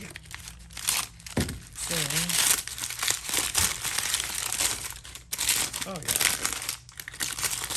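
Crinkly plastic bags being unwrapped from sandblasted car parts for a Toyota 5VZ 3.4 swap, loud close rustling and crumpling in bursts while someone talks.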